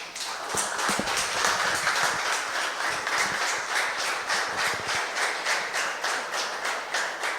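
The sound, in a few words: church congregation applauding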